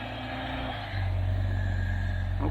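Off-road recovery vehicle's engine revving hard as its tires spin against a tightening winch cable; the engine note steps up sharply about a second in and holds at a loud, steady roar.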